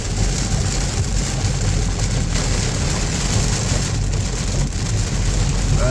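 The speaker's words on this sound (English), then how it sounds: "It's raining terribly." Heavy rain pouring down steadily, a dense, even hiss and patter close by, continuous throughout with a low rumble underneath.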